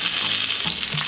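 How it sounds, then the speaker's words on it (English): Quartered red skin potatoes frying in oil to brown, a loud, dense, even sizzle heard up close with a faint soft bump. "Next, I'm going to add potatoes, which I've quartered, into the oil to brown."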